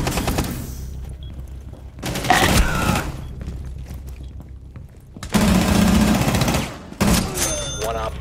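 Loud bursts of gunfire in Rainbow Six Siege, a tactical shooter, coming in separate volleys with quieter gaps between them and some faint talking underneath.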